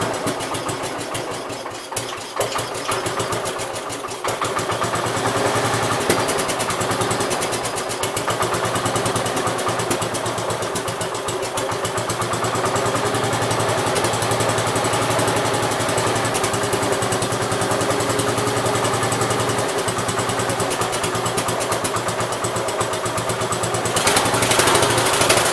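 The small engine of a 1969 Gravely 432 tractor, freshly swapped in, runs steadily at a fast idle for the whole stretch, loud and close with a slight rise near the end.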